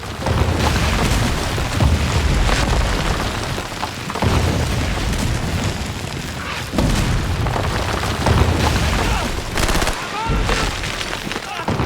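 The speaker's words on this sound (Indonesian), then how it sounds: "Sampai akhirnya Soviet mengirim salvo artileri secara mengejutkan." Soviet artillery salvo explosions boom in heavy, overlapping bursts, loud and continuous with deep rumbling impacts and short gaps between volleys.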